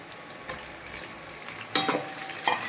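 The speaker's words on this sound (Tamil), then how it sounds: "பாருங்கள், வெங்காயம் நல்லா வதங்கி வந்துடுச்சு. இப்போ தக்காளி சேர்த்துக்கலாம்." Onions and tomatoes fry in a pan with a soft, steady sizzle, broken by a few louder scraping stirs and clinks of a utensil against the pan, close up and without talk.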